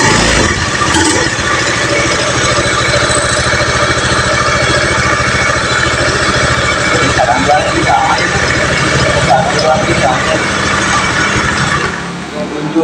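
Honda Vario 110 FI scooter engine running steadily at close range after repair of an ignition fault, a continuous even drone throughout, with no clear start-up moment.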